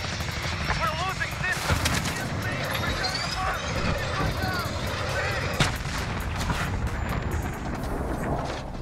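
Rapid gunfire and booming blasts in the video game Call of Duty: Modern Warfare, with an AK-47 among the weapons. Sharp, repeated shots crackle continuously over a busy battlefield din while a voice talks throughout.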